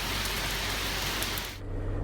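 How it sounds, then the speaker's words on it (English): Heavy rain pours down during Trinidad's rainy season, a dense, steady hiss of drops that fills the whole stretch, with a dip in the wash near the end. "It's coming down. It is rainy season here in Trinidad"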